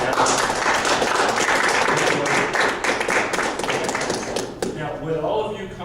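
An audience at a library panel discussion on comic books gives a round of applause, with dense, sustained clapping that thins out toward the end.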